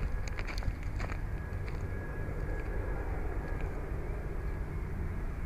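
A helicopter flying overhead gives a steady low, rumbling engine drone that fills the whole clip, with a few faint clicks and taps near the start.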